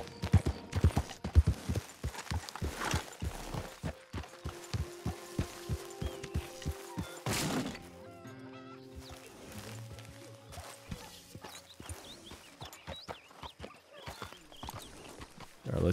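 Steady clip-clop of a horse's hooves trotting at an even rhythm in Red Dead Redemption 2, slowing and stopping partway, with faint birdsong and ambient background.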